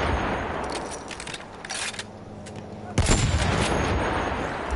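A gunshot fired at a tank during an online shooter match, sharp burst around the three-second mark over a busy backdrop of distant battlefield explosions and gunfire, with faint voices in the mix.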